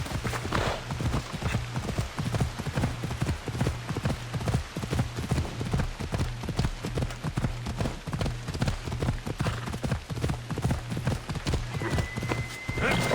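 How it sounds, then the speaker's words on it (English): Hoofbeats of a horse galloping in the video game Assassin's Creed Odyssey, a steady rhythmic clip-clop running throughout at moderate loudness under faint speech. "Do I need to take a horse?"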